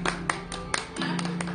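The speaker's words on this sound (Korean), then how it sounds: "한번 박수." A small group claps briefly in a nightclub-style venue, a handful of sharp, spaced claps in loose rhythm over a low steady musical hum.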